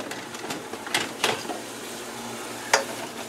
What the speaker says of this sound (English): You just constantly stir them like this.